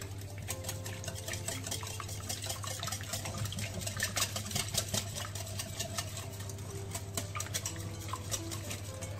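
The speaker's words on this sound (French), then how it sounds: "je rajoute l'œuf, je continue à mélanger." Egg is stirred into pizza dough in a bowl, a soft, steady, wet mixing sound with light scraping, faint against a constant low hum.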